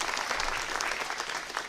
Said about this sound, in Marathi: त्या दोघांच्यासाठी पण जोरदार टाळ्या वाजवाव्या.